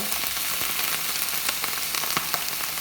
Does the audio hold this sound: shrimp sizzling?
yes